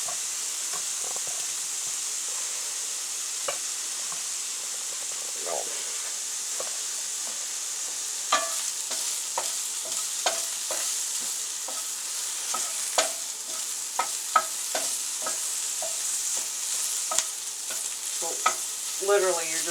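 Shrimp cooks in a frying pan, giving a steady soft sizzle with scattered clicks and scrapes of stirring that grow busier over time.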